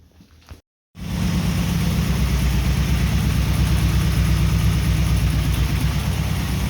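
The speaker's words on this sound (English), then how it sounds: "I'm gonna start the car, let it run for a minute" A brief click and a moment of silence, then the engine of a 1991 Camaro Z28 with about 173,000 miles catches and settles into a loud, steady idle close by.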